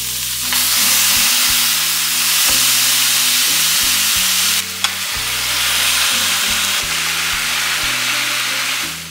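Vegetables and 500 g of ground beef sizzle loudly in a hot pan for fajitas, a constant frying hiss broken by scraping and stirring strokes of a utensil, with no one talking.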